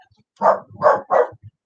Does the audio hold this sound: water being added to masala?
no